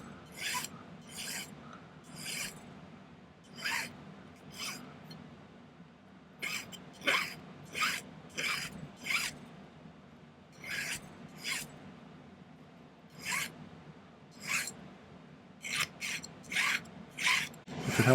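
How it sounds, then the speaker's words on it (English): Hand file rasping a marquise ring in repeated short strokes, crisp scraping bursts in irregular clusters with brief pauses between, close and fairly quiet against a low background hum. "I think I'm just going to file it so it's got a little bit of an angle to it"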